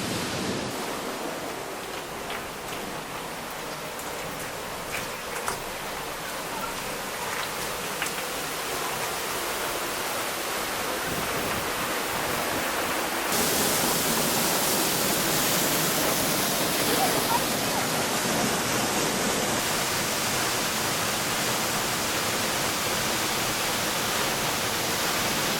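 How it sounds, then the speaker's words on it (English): Waterfall heard from behind the falling curtain of water, a dense steady rush that swells louder partway through, with people talking faintly beneath it. "Going behind the waterfall."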